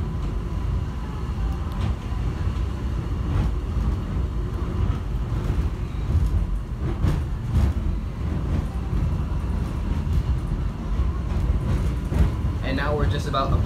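Subway train ride to an airport's Terminal A, a steady loud rumble of the moving car throughout with rattling and a brief voice near the end.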